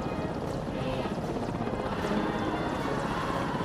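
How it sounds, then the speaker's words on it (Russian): A Soviet rotorcraft, a hybrid of helicopter and airplane, flies past with a steady, dense rotor and engine roar that stays loud and even throughout. "Новинка советской авиации – винтокрыл. Своеобразный гибрид вертолета и самолета."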